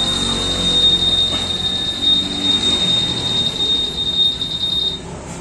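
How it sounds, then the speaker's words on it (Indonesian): Honda keyless motorcycle anti-theft alarm sounding a steady, loud high-pitched electronic tone that holds for about five seconds and then cuts off. "itu kelebihannya kalau pakai punyanya Honda itu dia ada alarmnya ini"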